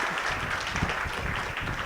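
Faint, distant audience clapping at a Hindi spiritual discourse, a steady low wash of applause lasting under two seconds.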